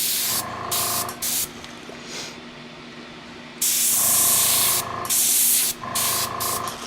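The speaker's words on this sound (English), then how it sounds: "airbrush set at 25 psi so it doesn't blow terribly hard" Airbrush set to 25 psi spraying alcohol ink onto a flower painting, a steady close hiss in bursts of a second or two, cutting off in brief gaps, with a quieter softer spell in the middle.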